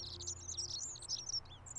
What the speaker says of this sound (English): This bird is so Not sure loud.